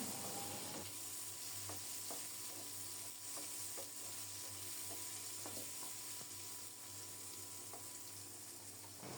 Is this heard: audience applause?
no